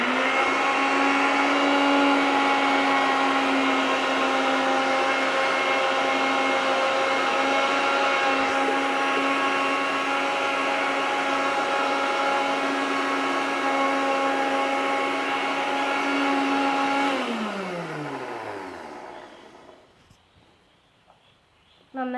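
A kitchen blender whirs steadily, emulsifying egg yolk mayonnaise as oil is added, a loud continuous motor tone that runs for about seventeen seconds before winding down and stopping.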